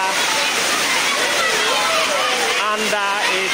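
Floodwater sloshing and pouring through a flooded school classroom in Kintampo North, a steady loud watery rush with children's voices and talk layered over it throughout.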